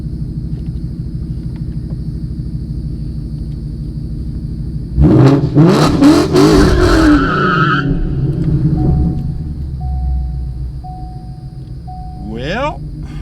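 A 2016 Mustang GT with a T56 Magnum XL transmission swap idles with a steady low engine drone, then surges into a loud revving burst with tire scrub before settling; a short whine follows near the end, with talk faintly present.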